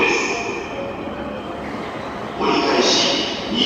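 A Musashino Line train rolls into a Japanese station platform with a rumbling, squealing rush that swells after a couple of seconds, while a platform announcement voice plays underneath.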